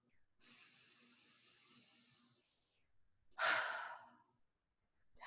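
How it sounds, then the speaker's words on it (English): A person draws in a long, slow, deep breath close to the microphone, then lets it out in one stronger, breathy exhale. "Deep breath."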